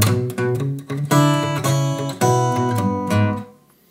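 An acoustic guitar plays a rhythm pattern with double stop notes added on top as it descends, several bright plucked chords ringing close and clear before fading out.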